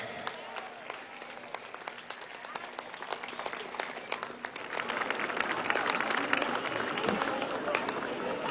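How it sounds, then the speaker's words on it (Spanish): A large crowd at an outdoor march against violence toward women applauds, the clapping distant at first and swelling louder toward the end, with crowd noise mixed throughout. "Un aplauso a Tania Díaz."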